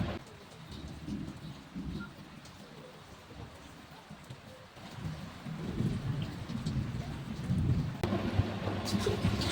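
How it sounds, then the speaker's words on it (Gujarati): Rain pouring down during a stormy spell, a steady hiss on surfaces that grows heavier toward the end, with birds calling faintly in the background and no one speaking. "બતાવું તમને વરસાદ કેવો આવે"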